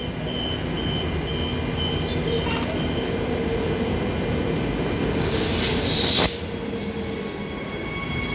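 Recorded from inside the middle car of an electric multiple unit train at Clarkson station, a loud, steady motor drone and rolling rumble builds as the train departs, with a brief sharp hiss and squeal near the end.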